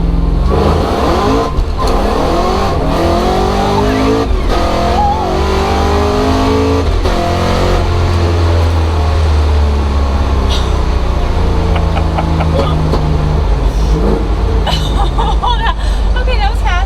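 A supercharged Chevy Nova accelerates hard, its engine roaring loud and close through repeated rising pulls and gear changes, with supercharger whine and some tire noise, while voices chatter over it inside the car.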